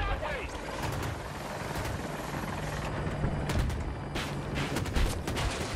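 An attack helicopter in the shooter game Battlefield 2042 drones with a steady rotor thrum while bursts of gunfire crack sharply over it, and a player talks over the action.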